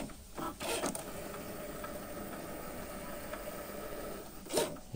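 A Cricut Maker cutting faux or genuine leather gives a steady, moderate mechanical whir with faint scraping, bracketed by brief louder motor surges at the start and end.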